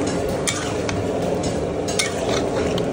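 Chilli chicken frying in a pan as soy sauce goes in, a loud, continuous sizzle with scraping stirs and light utensil clinks, close up and unbroken by talk.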